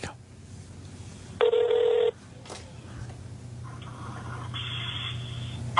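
A telephone call rings through on a radio show before going to voicemail, with one loud, buzzing ring tone, then a fainter tone later and people talking quietly underneath.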